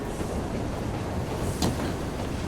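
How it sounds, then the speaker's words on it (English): A locomotive train runs in Assassin's Creed Syndicate, a steady, dense rumble of rolling rail noise with faint clickety-clack and a brief metallic squeal midway, continuous and close. "detach this locomotive so the other guards on the locomotive can't follow me"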